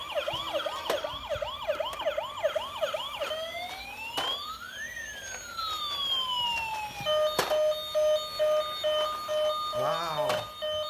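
A toy ambulance siren sounds in a children's play setting, first a fast rising-and-falling wail, then sweeping tones and steady beeping, with a voice talking over it.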